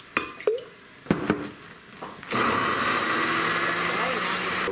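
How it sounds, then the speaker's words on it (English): A kitchen blender whirs through a thick butternut squash cream sauce, starting with a few clinks and knocks, then a steady loud motor roar for the last couple of seconds. "Now we can do the side blender shot where we watch everything get blended"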